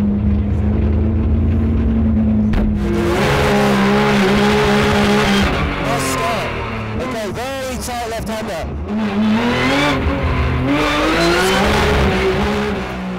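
A race car roars around the Race of Champions track in Düsseldorf, 2010, its engine revving up and down through gear changes with tire squeals, loud and close throughout.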